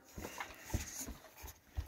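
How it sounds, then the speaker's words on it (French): Small dogs whimper and snuffle faintly at close range inside a camper van, with short soft yelps and breaths scattered over a quiet background. "Et on a les petits toutous."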